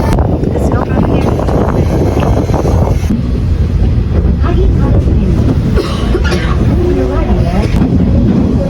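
Strong wind at a train station in Japan roars and buffets the microphone with loud, continuous low rumbling, while people speak intermittently over it.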